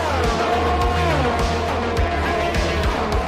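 F3 race cars roar around a Saudi Arabia circuit in a PC racing game, their engines screaming at high revs in a steady, dense drone. Several cars run close together, with faint tyre scrubs and gear-shift blips.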